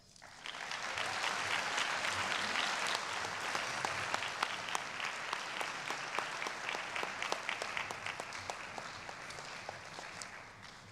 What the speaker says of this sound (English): Join me in applauding the winner of the 2016 Camille K. Rajpat Memorial Award